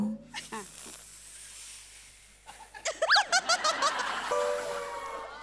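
A voice mimics a creaking door with a string of rising, squeaky vocal pulses, close and fairly loud, following brief chatter from others in a comedic scene.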